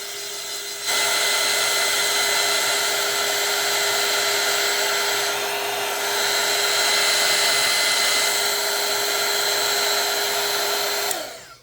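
A hair dryer blows steadily at close range with a constant whirring hum, running continuously for about ten seconds before switching off.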